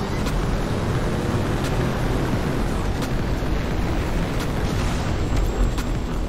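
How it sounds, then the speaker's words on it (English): Explosions in the combat racing game GRIP: a constant loud, roaring rumble of engine and blast noise with several sharp bursts cutting through, dense and unbroken throughout. "look at all these explosions"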